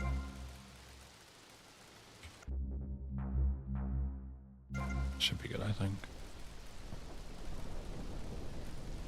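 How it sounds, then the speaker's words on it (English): Rain and rolling thunder in the video game GTA, with steady rainfall, a deep rumble that drops out briefly, then a sharp crack and continuing downpour, while someone speaks briefly. "Get me out of rain."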